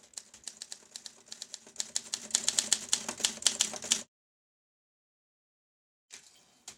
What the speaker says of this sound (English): Now, you might think I'm gushing about a typewriter I've hardly used.